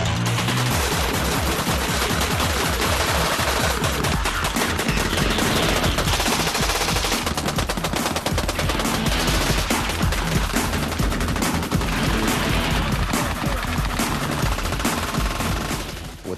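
A Gatling gun fires in one loud, sustained burst of rapid shots that runs unbroken for the whole stretch, dense and harsh with no pauses.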